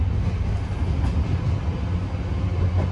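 A train runs on the slow line on a viaduct near Heaton Chapel, heard as a constant, heavy low rumble with a steady rolling hiss and no voices.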